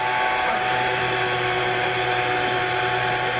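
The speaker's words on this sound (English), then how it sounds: "Oh, that's not a chainsaw. Check it out. It's just a blower." Steady, loud mechanical whir of a blower running close by during an ice sculpting competition at the Ice Art Championships, held without a break and with no talk over it.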